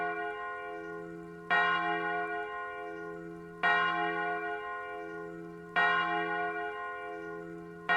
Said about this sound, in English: Can't hear you right now with the bells.